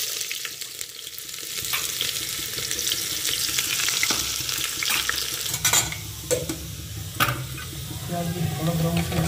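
Cumin seeds sizzle and crackle in hot oil in a home kitchen pan, a steady frying hiss with occasional sharper pops and faint clinks of utensils.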